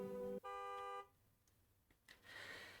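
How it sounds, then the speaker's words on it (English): A car horn honks in a cold city street with traffic. It gives a short blast, then a longer one, both loud and close, followed by faint street noise. "A car honks loudly."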